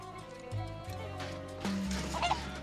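Chicken clucking in Final Fantasy VII Rebirth's Gongaga region, short fowl calls over a layered bed of background game music and ambience.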